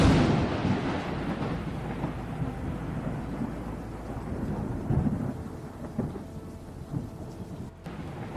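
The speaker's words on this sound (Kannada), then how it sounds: "ಮತ್ತೆ ಮಳೆ ಸ್ಟಾರ್ಟ್ ಆಯಿತು" Steady rain pours down with deep rolls of thunder rumbling through it, a continuous wash of downpour with louder swells of thunder; no voices are heard.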